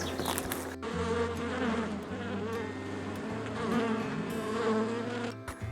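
Honeybees swarm around an open beehive with the honey supers exposed, a dense close buzzing hum with wingbeats darting past, continuous and loud throughout.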